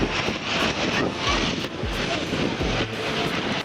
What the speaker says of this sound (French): Oh, un avion!